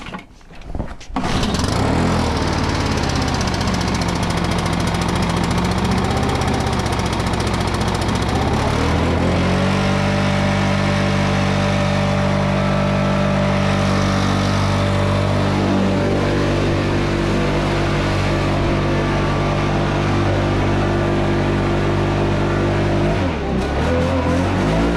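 Stihl BR600 backpack blower running loud and close while blowing light snow, starting with a rising rev, then holding a steady high engine drone that dips briefly near the end before continuing.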